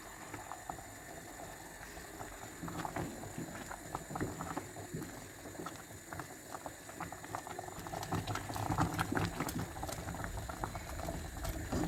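Rice pudding flavoured with rose simmers gently in a pot, a soft continuous bubbling and popping with faint irregular ticks, quiet and close, no voices over it.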